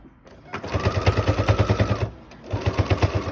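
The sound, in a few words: sewing machine stitching a face mask keychain holder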